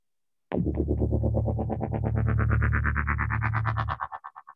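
A single sustained synthesizer note played through an audio interface sounds loudly for about three seconds with a buzzy, distorted, chorus-like tone that swells slightly, then cuts off and leaves a brief pulsing echo tail.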